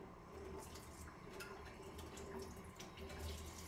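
Water runs steadily from a tap or pours in a continuous low splashing stream, fairly quiet and close, with no talking.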